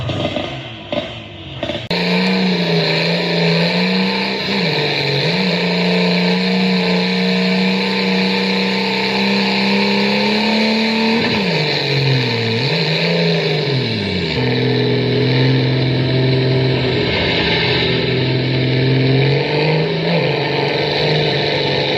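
A push-started car engine catches after a brief sputter and then runs loud and close, with a sustained buzzing idle that rises and falls through several revs over about twenty seconds.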